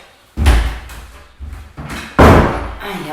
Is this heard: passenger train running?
no